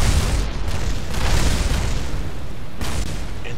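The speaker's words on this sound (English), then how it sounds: "And all our debris is exploding." Space station debris exploding in Kerbal Space Program, a loud continuous rumbling boom with broad noisy bursts swelling and fading, dense and close with no talk over it.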